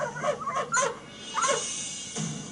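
A dog named Bowerman, a Doberman, gives a few short yips and whimpering barks in two clusters, fairly close and moderately loud, with no talking.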